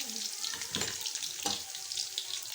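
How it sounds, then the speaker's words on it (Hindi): Sliced onions, two of them, dropped into a hot pan for egg biryani, giving a steady close hiss and crackle of frying with a couple of louder spits as they land. "तो ये 2 अनियन इसमें डाल देंगे"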